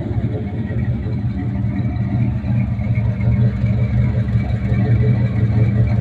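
The big-block 430 V8 in a 1968 Buick Riviera idles with a steady, deep, lumpy rumble heard up close from the rear of the car.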